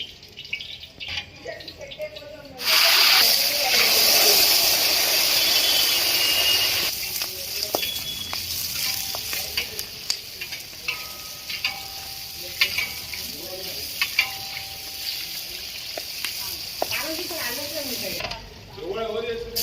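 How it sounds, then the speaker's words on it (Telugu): Green chillies fry in a hot pan for a coconut tomato peanut chutney, a loud steady sizzle that starts abruptly, runs close and continuous with occasional stirring scrapes, then drops off. "పచ్చిమిర్చి అనేది ఇలా వేగిన తర్వాత దీన్ని పక్కకు పెట్టేసుకోవాలి"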